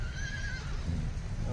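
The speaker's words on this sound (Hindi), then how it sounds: "सब पंजाबी घोड़े एक से एक बढ़िया नस्ल के।" A Punjabi horse at the Akluj horse market gives a loud, high whinny in the first half second. The whinny fades into a steady low rumble of crowd and market noise.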